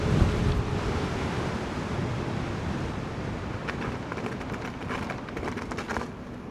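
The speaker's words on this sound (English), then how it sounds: "but it's definitely getting windier up here." Gusty wind roars across a high mountain road strewn with fallen rocks, a continuous broadband rush with buffeting against the microphone and no speech.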